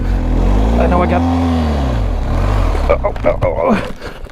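A 2024 Ducati Desert X Rally motorcycle is given gas to climb a steep off-road dirt hill. Its loud, close engine note rises and falls in surging revs, then breaks into rougher bursts near the end.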